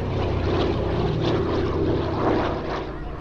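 A Douglas DC-3 Dakota propeller aircraft, civilian registered since 1939, drones past at the Midlands Air Festival, its piston engines a loud, steady throaty roar that swells slightly then begins to fade.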